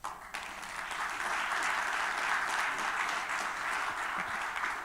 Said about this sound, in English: Let's applaud Mr. Akoto one more time